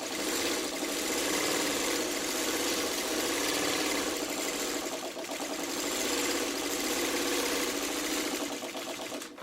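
A sewing machine runs continuously, stitching a quarter-inch seam on quilt fabric, its fast, even mechanical whir holding steady close by with only a brief dip partway through.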